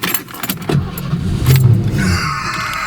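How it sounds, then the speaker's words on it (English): A Fox Body Mustang's fuel-injected 302 Windsor V8 cranks with a few stuttering bursts, catches and settles into a steady idle rumble, with keys jangling close by. "So that 302 Windsor fires to life, fuel injected, very nice, nice smooth idle"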